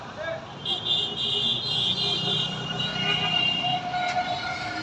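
A metro rail train runs beside a station next to a flower garden in Uttara, its steady rumble and faint whine sustained at moderate distance throughout.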